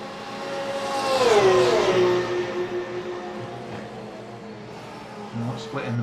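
Porsche race cars lapping Bathurst, one engine rising loudly as it passes and then settling into a steady, sustained drone with a second car's note audible underneath.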